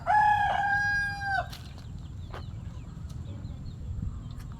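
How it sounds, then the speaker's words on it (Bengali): Roosters kept in a rural Barisal village yard, one crowing loudly and close for over a second, followed by soft scattered clucks and chirps against low background noise. "অনেকগুলো মোরগ ওনারা পালন করছে"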